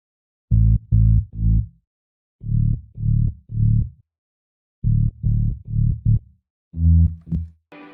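A layered bass patch with a sub layer underneath, from a remake: deep, punchy bass notes in short rhythmic groups of three or four, separated by brief gaps, played alone and upfront.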